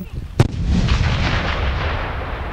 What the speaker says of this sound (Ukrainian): гармаші вдосконалювали майстерність стрільби з 85 мм протитанкових гармат Д-48